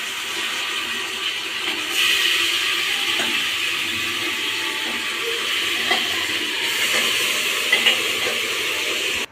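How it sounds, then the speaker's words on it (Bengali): Marinated mutton being sautéed in a pan, a steady close sizzle and frying hiss with occasional stirring scrapes and small spatters, continuous throughout. "দেখুন ঠিক এইভাবে মাংসটা আমি কষতে থাকবো।"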